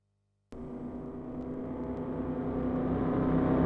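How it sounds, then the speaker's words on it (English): A car sound sample from a song, a steady mechanical whir that starts abruptly and slowly swells in loudness, heard alone. "Alongside this car sample as well."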